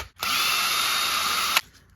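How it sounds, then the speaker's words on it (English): A power drill whirs in one continuous burst of about a second and a half while backing screws out of a Losi RC car differential, loud and close, then cuts off sharply. "Now I'm going to take these 2 screws out, and these 2, then these 2 here,"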